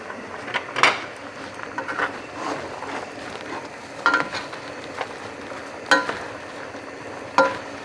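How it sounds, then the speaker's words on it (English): Sausage being stirred as it fries in a pan, with scraping utensil strokes and brief clatters at irregular intervals over a steady low sizzle, close and moderately loud. "All right, let me stir this."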